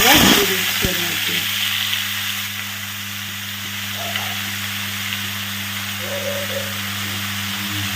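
Chopped, washed fenugreek leaves drop into a hot pan with a burst of sizzling that settles into a steady soft fry beneath a constant low hum.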